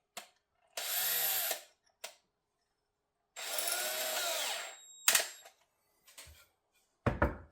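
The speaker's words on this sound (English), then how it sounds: "Now you want to make sure when you drill these holes that you're as straight up as you can be" A power drill boring holes in wood for a natural-wood flute, two sustained whining bursts of drilling, close and loud, separated by brief clicks and handling knocks.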